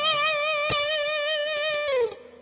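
A guitar lick is played with an upward rake: one strummed, ringing phrase with wavering sustained notes that slides down and cuts off after about two seconds, close and alone.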